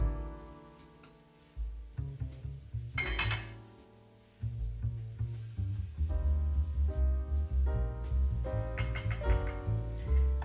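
Metal pot lid clinks and clatters onto a cooking pot of chestnut and cannellini bean soup, several close, bright knocks and rattles heard without speech.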